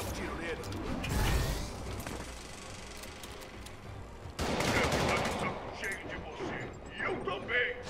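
Bursts of gunfire crackle in Marvel's Spider-Man during a fight with guards, loud rapid volleys around mid-clip amid mechanical clatter, with game voices speaking over the action.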